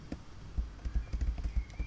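Hooves of a moving horse in the video game Star Stable thud in a steady, rhythmic clip-clop at a moderate distance, with a faint hum underneath.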